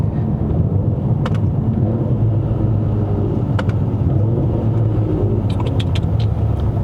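A W205 Mercedes-AMG C43 4Matic's engine rumbles steadily from inside the cabin on a test drive in Malaysia, a loud, continuous low drone as the automatic gearbox snaps through quick shifts, with a few faint clicks over it.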